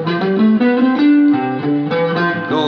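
A distorted, effects-laden guitar plays an ascending major scale one note after another, loud and buzzy, with no voices.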